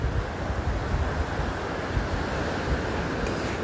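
Sea waves washing onto an empty beach on a cool day, a constant low roar of surf mixed with gusty wind buffeting the microphone, no voices.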